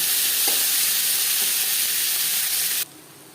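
Onions frying in oil with cumin and dried red chillies for a bhetki fish-bone dish, a steady close sizzle that suddenly drops to near quiet near the end.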